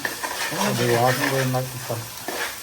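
Ginger garlic frying in a pan on a lowered flame while being stirred, a steady sizzle with scraping spoon strokes and a tonal hum alongside.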